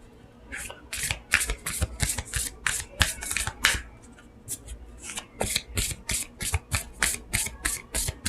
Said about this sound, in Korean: 무놀로지 카드 뽑아볼게요.